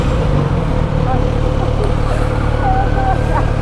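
A Kawasaki Z900RS motorcycle engine running with a steady low throbbing rumble under wind and road noise, ridden close, with people talking over it.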